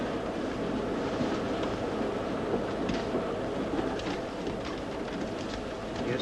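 A train carriage in motion, heard from inside as a steady, dense rumble and rattle that runs unbroken, with some faint hiss over it.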